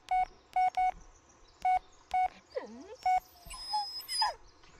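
A dog in the Blair Witch video game gives a short sharp sneeze-like snort near the middle, set among several spaced electronic phone keypad beeps, with a faint whimpering squeal at the end.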